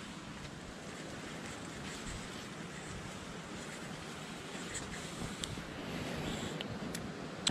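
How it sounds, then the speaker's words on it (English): A flowing creek in a river valley floodplain gives a faint, steady wash of rushing water in the open air, continuous and distant, with light wind noise and no talk. "You can hear the creek all day. It's moving pretty good."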